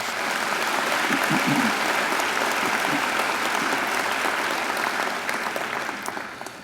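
Graduation ceremony audience applauds Professor Titov in a hall, a dense, steady round of clapping that holds evenly for several seconds before starting to thin at the end.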